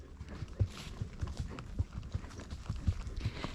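A horse walking on a path lands its hooves in a quiet, uneven clip-clop rhythm of soft, close thuds that continue through the whole clip.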